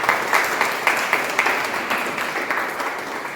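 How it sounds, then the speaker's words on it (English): A round of applause for guests at a Toastmasters meeting, a small group clapping with distinct individual claps, moderately loud and tapering off. "can we have a round of applause for all the guests who joined us today?"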